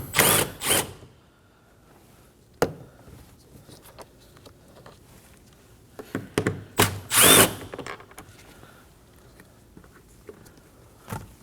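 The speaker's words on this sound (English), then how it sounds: "Now we can go ahead and remove these two 10mm bolts that are on the handle." Power drill or driver spinning out small 10mm bolts from the door panel of a 2017-2024 Nissan Armada, loud whirring bursts at the start, around six seconds and near seven seconds, with quiet handling noise between.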